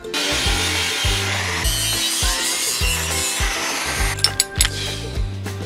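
A tool cuts a round hole in a metal gas cylinder being turned into a wood stove, a repeated grinding, rasping stroke in a steady rhythm, close and loud, ending with a few sharp clanks.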